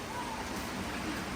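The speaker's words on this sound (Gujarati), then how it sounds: "વરસાદ આવ્યો ગાઈસ હવે" Steady rain falls over a lake view garden at Saputara, a continuous soft hiss with no distinct drops, and faint voices mixed in beneath it.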